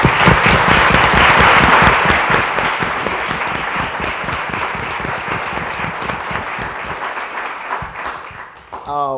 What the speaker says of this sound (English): Let's give Doug Blackmon another round of applause.